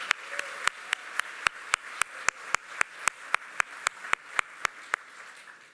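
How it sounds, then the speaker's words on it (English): Applause at an annual association meeting, heard as a regular run of about twenty crisp claps, moderately close and fairly quiet, like a single nearby clapper standing out from a thin audience, with no talk over it. "please join me in giving a big round of applause for our staff"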